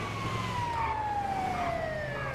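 An ambulance siren wails in the GTA 5 video game, one long steady tone sliding slowly downward as if passing, over a faint rumble of traffic.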